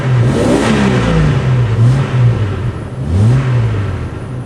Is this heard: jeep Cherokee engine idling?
yes